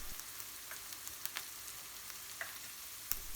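Ground spices (salt, paprika, chilli, cumin, coriander, turmeric, sugar and curry powder) sizzle faintly in hot oil in a pan for rogan josh, a soft steady crackle with small pops and no talk.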